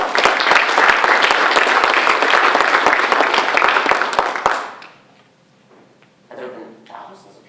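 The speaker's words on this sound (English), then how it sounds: "So we're going to clap for them as well." Loud, dense applause from a conference audience at a Joomla keynote in Florida fills the first four and a half seconds, then cuts off abruptly into near silence with faint room noise and brief soft sounds.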